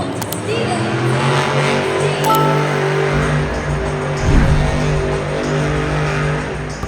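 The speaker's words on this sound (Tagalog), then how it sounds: "Makabungol gyud kaayo ang saba sa mga monster truck." Monster truck engines, including Max D and El Loco Toro, roar loudly at an outdoor arena event on a muddy track, with steady heavy rumbling that swells and surges in revs, crowd noise and voices mixed underneath.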